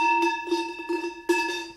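Hand-hammered iron sheet-metal cowbell ringing with a clear, sustained metallic tone, struck a few times in a quick irregular rhythm, close and fairly loud with each clank blooming into a ringing note.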